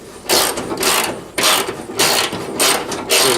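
Ratchet and socket turning a bolt on an S10 pickup's inner fender: quick bursts of clicking pawl strokes repeating in a steady rhythm, loud and close, with no talking.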